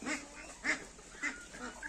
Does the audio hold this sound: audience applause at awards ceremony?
no